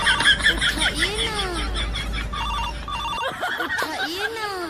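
A telephone rings with a repeating electronic melodic tone, fairly loud and near, while voices chatter and laugh over it in a domestic comedy scene.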